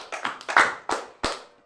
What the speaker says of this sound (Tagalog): So, bigyan natin siya ng 5 palakpak.